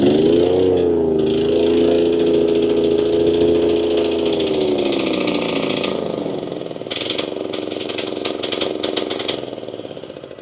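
A RedMax CZT54X zero-turn mower engine drones loudly and steadily while cutting grass, its pitch dipping under load, with a rapid mechanical rattling chatter from the blades and deck joining in.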